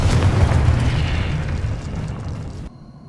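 A Confringo spell explodes in the Hogwarts Legacy video game with a loud, close, roaring blast that rumbles on for a few seconds and then cuts off abruptly.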